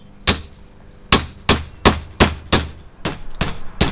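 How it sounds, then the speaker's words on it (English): Repeated hammer blows cracking through pig vertebrae while butchering a whole pig for a Cuban-style roast, nine sharp, loud strikes at a steady, slightly quickening pace with no talking. "we're gonna locate the vertebrates, and we're just gonna start, you know, hammering in there so we can just crack the first layer"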